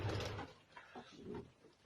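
Racing pigeons in a loft give soft, low cooing calls, a few muffled murmurs close by with light rustling in between.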